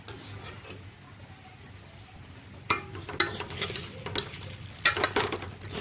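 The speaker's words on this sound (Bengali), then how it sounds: "এবার আমি মুগ ডাল আর চালের মধ্যে দিয়ে ভেজে নেব ভালো করে।" Moong dal and rice are being fried with crisp golden onions for a vegetable khichuri, a low sizzle with intermittent scraping stirs that grow louder and busier toward the end, no voices.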